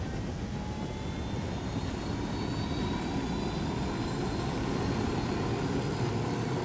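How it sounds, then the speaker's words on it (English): A helicopter in the video game Ghost Recon Wildlands drones steadily throughout, a loud, continuous engine and rotor roar without any talk over it. "Oh, magical helicopter."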